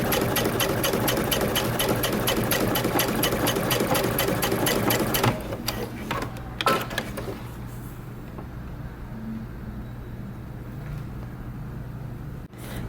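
A sewing machine runs steadily, top stitching jeans fabric at a 3.5 stitch length, with fast even needle strokes for about five seconds. Then it stops, leaving short clicks and handling noises.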